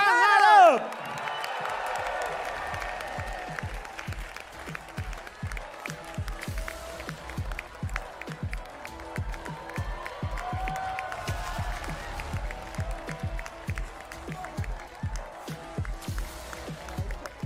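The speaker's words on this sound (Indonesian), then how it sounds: "Kita sambut dengan tepuk tangan dong." An audience applauds steadily and cheers to welcome the new PSI party chairman in Indonesia, with a dense, sustained patter of clapping and a loud announcer's voice over it.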